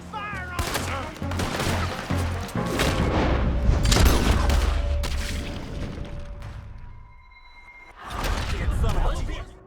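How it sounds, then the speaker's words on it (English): Gunfire erupts during a Red Dead Redemption 2 shootout: sharp, loud shots and booming blasts over shouting voices, a brief lull, then another burst of firing close by. "Open fire on him!"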